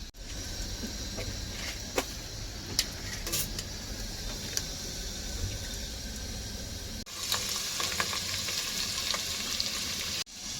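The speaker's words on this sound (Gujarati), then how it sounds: "તેલ નાખી દીધું છે એટલે હવે આપણે આમાં સીધો નાખવાનું છે લસણ અને આપણો આખો મસાલો." Garlic and whole spices frying in hot oil for a tadka, a continuous hissing sizzle with occasional clicks and a brief dropout, growing louder and brighter in the last few seconds, with no voices.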